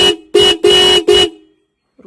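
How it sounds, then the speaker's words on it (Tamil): A Roots Vibromini horn fitted to a Suzuki Access 125 scooter gives four loud, close, car-like honks in quick succession, the last two longer, then falls silent. "இதோட ஆரன் எஃபெக்டாக தான் கார் ஆரன் மாதிரி இருக்கும்"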